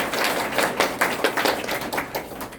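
Lecture audience clapping, a lively round of fairly loud, close claps with distinct individual hits that stay busy throughout.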